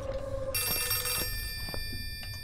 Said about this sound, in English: There it is. There's the phone.